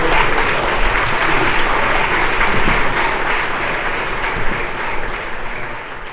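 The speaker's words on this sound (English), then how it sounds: "let's have another round of applause for Mr. Wilcox." Dense, steady applause from an audience following a Q&A talk at a Theology on Tap evening in Sydney, sustained clapping for about six seconds and easing slightly toward the end.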